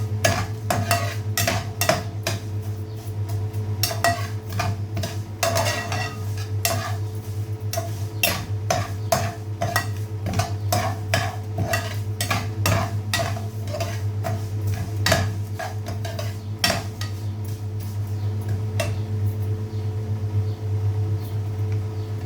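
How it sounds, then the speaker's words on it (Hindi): A metal spoon stirs sweet saffron vermicelli in a pan, giving repeated close clinks and scrapes at an irregular pace over a steady low hum of the stove. "इसको चम्मच हिलाते रहना, छोड़ना नहीं है।"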